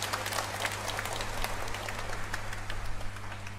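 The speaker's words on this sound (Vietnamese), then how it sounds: "Xin cộng đoàn nổ một tràng pháo tay để chúc mừng hai gia đình." A church congregation applauds to congratulate two families at a Vietnamese Mass, a steady dense patter of many hands clapping, moderately loud and sustained over a low hum.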